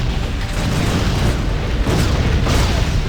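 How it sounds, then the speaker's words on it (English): Booming cannon blasts in the video game Torchlight II, fired by an engineer character, come as dense, continuous explosive rumbles that fill the whole stretch at steady loudness with no voice over them. "I could just use my cannon and make stuff blow up"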